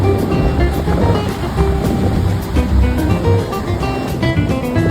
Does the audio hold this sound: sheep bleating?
no